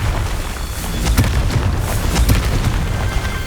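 A Confringo fire spell explodes in the video game Hogwarts Legacy, a loud, sustained rumbling blast with several deep booming bursts piled on top of each other, heard alone.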